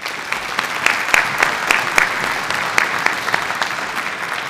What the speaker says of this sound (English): So give them a round of applause for me.